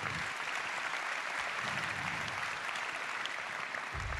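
Steady applause from an audience, fairly quiet and even, lasting about four seconds with no voices over it.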